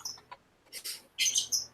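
Covered pet birds chirping indoors in short bursts of high, bright calls separated by brief pauses, close and moderately loud, with no talk.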